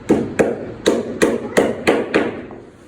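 Nails are hammered into a wooden Malaysian-style panel door, seven sharp, loud, close blows in a steady rhythm, each ringing briefly, with no speech.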